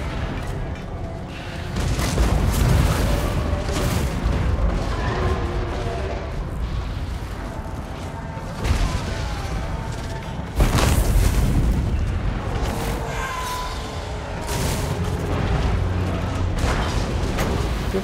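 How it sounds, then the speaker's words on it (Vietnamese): Artillery gunfire and explosions in a Total War Warhammer 2 battle, a dense continuous roar of booms with sharp blasts standing out near 2.5, 8.7 and 10.5 seconds, and faint speech mixed in. "Bắn súng nào em. Bắn vào tập tướng nó này."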